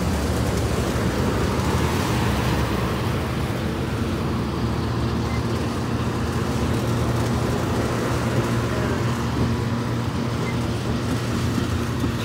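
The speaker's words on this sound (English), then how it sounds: "Train's accelerating pretty fast" An Amtrak California train with a cab car accelerates away, a steady low rumbling drone of engine and wheels holding even throughout, heard from nearby with no talking.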